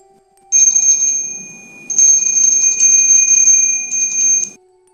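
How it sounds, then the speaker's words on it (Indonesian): A bright bell rings in two sustained bursts of rapid, trilling strikes, close and clear against a quiet background. "Suara lonceng itu masih ada."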